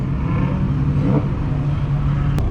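A straight-piped BMW M4 F82 rolls along among supercars, its engine and exhaust a steady, loud, close drone that holds throughout without any talking.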